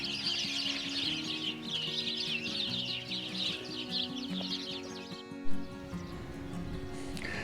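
A flock of sparrows chirps together in a continuous, busy chatter near houses at the edge of the East Sussex South Downs in autumn, with a low steady drone underneath.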